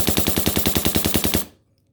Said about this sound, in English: with a silencer on here, you can really hear that feather touch actuating